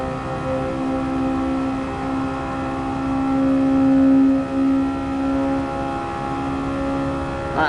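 A Mercedes race car engine in the video game Gran Turismo Sport drones with a steady, loud whine, its pitch swelling slightly mid-run before a brief dip, with no voices.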